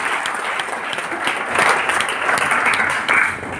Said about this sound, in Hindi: एक जोरदार ताली फिर से हमारे ऊपर वाले के लिए, एक जोरदार ताली।